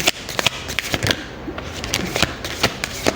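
Tarot cards being shuffled by hand in a series of quick, crisp riffling bursts with short pauses between, close and fairly clear against a quiet room.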